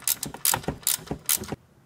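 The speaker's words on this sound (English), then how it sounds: "Next we run our adjuster bolt until we get the proper tension on our belt." A ratchet clicks in four quick rhythmic bursts, each a rapid run of close metallic pawl clicks, while tightening an AC compressor belt adjuster bolt, alone and then stopping.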